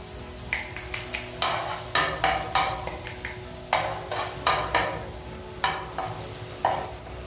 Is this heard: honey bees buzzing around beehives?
no